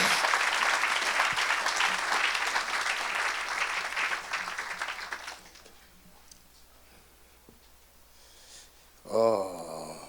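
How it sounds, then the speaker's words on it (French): A church congregation claps and cheers loudly for Jesus Christ, a dense burst of applause that fades out over about five seconds, followed by quieter room sounds and a short sung or shouted voice near the end. "Acclamez pour Jésus-Christ."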